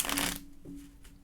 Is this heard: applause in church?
no